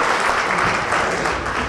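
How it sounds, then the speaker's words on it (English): An audience at a formal awards ceremony claps warmly, a thick, continuous wash of many hands at steady volume with no distinct voices. "Let's give him a warm round of applause."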